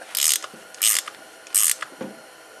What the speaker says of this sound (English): Go ahead and take the wrench to that.